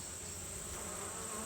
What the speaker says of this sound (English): there are a lot of bees on it